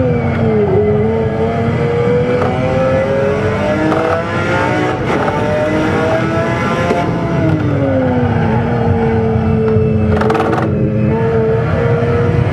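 A McLaren F1 GTR on a track day at Kyalami, heard onboard in the Assetto Corsa sim, roars continuously and loudly, its engine pitch rising through the revs, dropping on upshifts, then climbing again.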